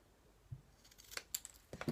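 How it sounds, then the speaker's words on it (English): Scissors snip through paper card in a few quick, close, quiet cuts with short crisp clicks. "use my scissors just to cut it through"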